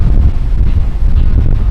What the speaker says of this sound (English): We were told Waterton Lakes was windy, but this is crazy.